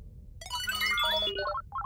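Short electronic phone message notification chime, a bright run of rising and falling tones followed by a brief repeated blip, clear and alone against quiet background in a German-dubbed animated football series.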